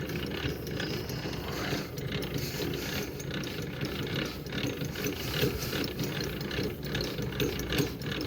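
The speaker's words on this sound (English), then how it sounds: "So then we just end up cranking. The outrigger slowly drops." Hand crank lowering the outrigger on a Knapheide Stellar utility body, with a steady run of ratchet clicks and grinding gears repeating close by for several seconds.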